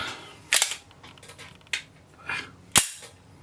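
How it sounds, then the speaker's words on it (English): A Walther striker-fired pistol trigger is pulled and released in a series of sharp, close mechanical clicks, with three distinct loud snaps and softer intermediate clicks in between. "See the trigger stop there, and from here we are finishing arming the striker and releasing."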